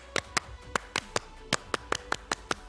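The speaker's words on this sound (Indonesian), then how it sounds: "Tepuk pramuka." A Pramuka scout clap: a crisp, patterned sequence of about a dozen sharp hand claps in uneven rhythmic groups, fairly close, with no talk.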